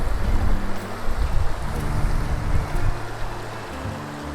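Creek water at Lightning Creek in Kaniksu National Forest rushes under a bridge in a loud, steady broadband roar with constant churning, no talking over it.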